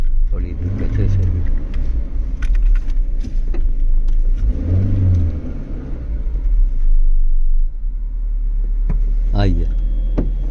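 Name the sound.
car driving on a road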